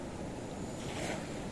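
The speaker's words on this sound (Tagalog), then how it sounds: "Rumaragasa na yung tubig dito sa dam ng Mambusaw." Floodwater rushing through the Mambusao dam in Capiz, Philippines, during Typhoon Goring, a dense, steady roaring wash of water with wind noise on the microphone.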